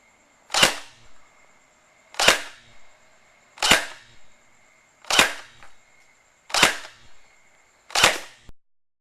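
A JG P90 TR airsoft gun fires six evenly spaced single shots downrange, each a sharp, loud crack about a second and a half apart, with no talking.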